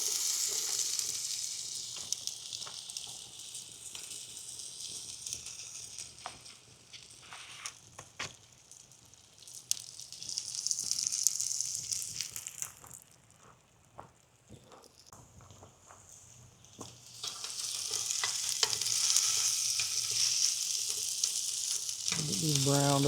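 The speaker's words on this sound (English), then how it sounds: "A little olive oil. And I'll put our potatoes up there." At a campground, potatoes fry in olive oil with salt, pepper and garlic, making a hissing sizzle that rises and fades, with quieter stretches and scattered small clicks and pops.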